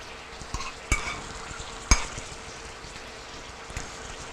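Vegetables and tomatoes cooking down in a pan in a home kitchen, a steady soft sizzle with a few sharp utensil clinks against the pan, close by and without voices.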